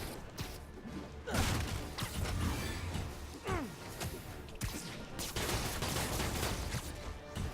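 Gunfire from an enemy in a Spider-Man PS4 video game, a dense run of shots and clattering impacts over steady game ambience, loud and continuous through the clip.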